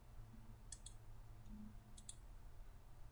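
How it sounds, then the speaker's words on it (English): Two quick pairs of sharp mouse clicks, close and crisp, over a steady low hum, with a faint soft tap between them. "Right mouse click, enter,"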